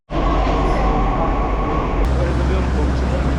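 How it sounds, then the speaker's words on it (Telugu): A Delhi metro train rolls into a station, its loud, steady rumble and rush starting abruptly and holding close and constant, with a brief sharp click partway through; no one speaks. "మెట్రో ట్రైన్ అయితే వచ్చేసింది, ఎక్కేసాం."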